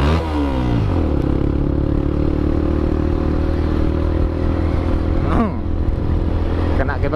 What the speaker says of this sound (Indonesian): Kena geber-geber sedikit lah, geber-geber manja gitu ya.